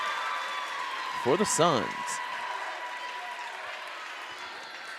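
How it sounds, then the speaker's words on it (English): Crowd noise from a high school girls' volleyball regional final in a gym, a steady broad roar with a brief burst of cheering, while a commentator talks over it. "You can definitely hear the crowd over there for them."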